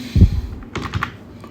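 Typing an amount on a computer keyboard, a dull thump followed by a few quick, close key clicks and then quiet.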